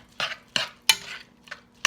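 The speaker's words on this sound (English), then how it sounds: "Just kind of give it a little stir." A spoon scrapes and clinks against a pot of corn chowder in a few quick, separate strokes, close by and fairly quiet.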